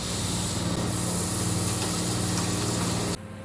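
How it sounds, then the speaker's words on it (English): A steady, loud machining roar of a 7/16 carbide Kennametal drill in a CNC mill cutting holes into metal, with a constant whirring hum that cuts off abruptly near the end. "this is a 7/16 carbide Kennametal Go drill that's just drilling some 7/16"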